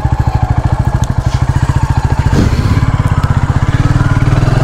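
A Royal Enfield Classic 350 motorcycle is being ridden, its single-cylinder engine thumping in a fast, even, loud pulse that swells slightly as it pulls harder partway through.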